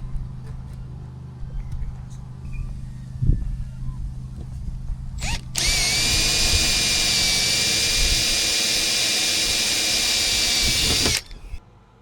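A power drill whirs loudly in one long steady run after quieter handling noises, drilling mounting holes in a caravan, then stops.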